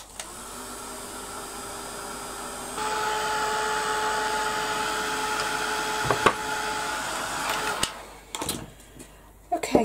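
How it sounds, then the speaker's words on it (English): A heat gun blows a steady whooshing hum to dry altered craft boxes, getting louder partway through, then cutting out amid a few clunks and handling knocks at the end. "I'm going to give them a quick blast with the heat gun"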